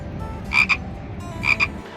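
Frogs croak in two quick double bursts, loud and near, over a steady background hum of outdoor noise.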